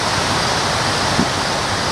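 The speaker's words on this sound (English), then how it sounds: "right now there's some video of waterfalls playing" A waterfall roars in a steady, dense rush of falling water, continuous and fairly loud throughout with no voices.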